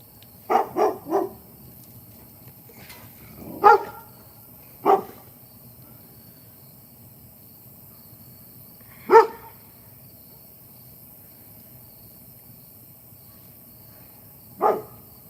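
Neighbor's dogs bark in the distance, a few scattered single and doubled woofs spread over fifteen seconds, faint against a steady night hum of crickets.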